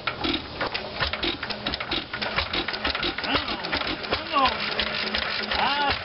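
An old IHC stationary engine runs with a steady, rapid mechanical chugging and clatter, loud and close throughout, with voices talking over it.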